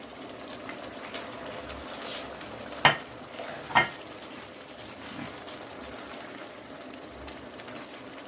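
Kofta pieces drop into a pan of cooked potatoes over a steady soft sizzle, with two sharp knocks of meat or a utensil against the pan standing out, close by and without talk.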